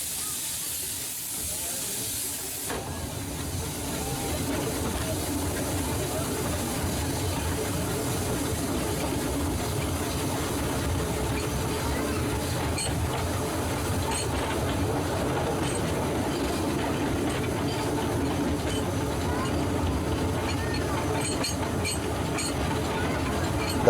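A small green steam locomotive rolls steadily along the Gloucestershire Warwickshire Railway line, a loud continuous rumble and hiss of wheels and steam that holds for the whole stretch.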